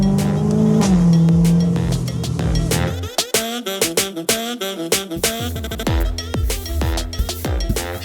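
Car engine revving from a low idle, rising into sharp repeated throttle blips and crackling bursts, loud and close with a few seconds of hard, choppy revs.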